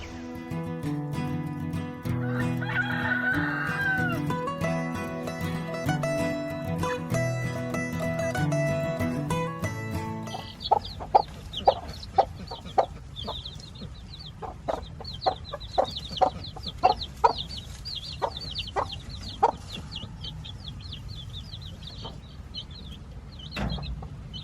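A hen clucks in short, repeated bursts, close by, after a stretch of background music; the clucks come irregularly against a quiet backdrop.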